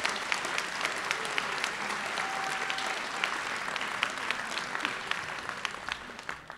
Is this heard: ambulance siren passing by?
no